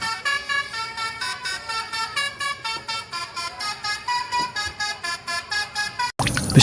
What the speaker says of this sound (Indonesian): Ternyata ada bus telolet.